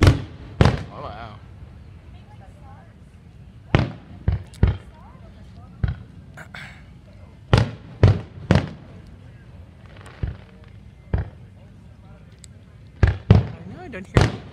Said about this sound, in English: Here's the fireworks.